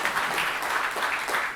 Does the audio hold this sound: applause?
yes